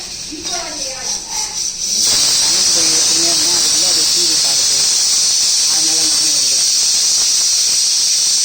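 A loud, steady steam hiss sprays continuously from a pressure cooker whistle while cooking chicken, with faint clattering and a muffled voice underneath at first.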